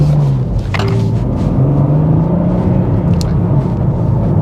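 A manual BMW M2 engine rumbles steadily as it pulls away hard from a lay-by, a continuous loud drone with the revs held up through the clutch take-up.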